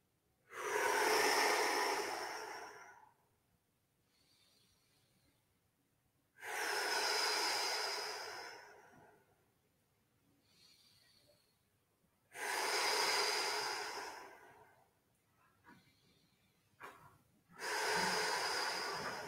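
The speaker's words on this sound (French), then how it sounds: "J'inspire et je gonfle ici le flanc" Four long, deep breaths during a calming relaxation exercise, each a loud, broad airy rush lasting about two to three seconds and spaced evenly, with quiet pauses and faint shuffling between them.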